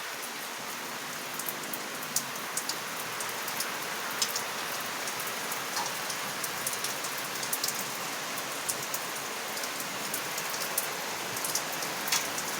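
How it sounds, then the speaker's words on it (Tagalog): Heavy rain pours steadily on an April day, a dense even hiss with scattered sharper drops tapping close by, and no voices. "Swerte naman ng mga halaman na diligan dahil lumalakas yung ulan rito."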